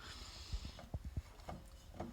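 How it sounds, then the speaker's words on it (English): Faint mechanical clicks and soft thumps from a mower engine being turned over slowly, the decompression tappet sliding over its pin, a few distinct ticks in quiet surroundings. "That's that audible click of the decompression as the tappet slides over that little pin."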